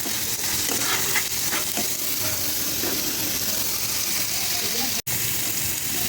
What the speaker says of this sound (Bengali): এবার আমি একটু মশলাটাকে কষিয়ে দেবো।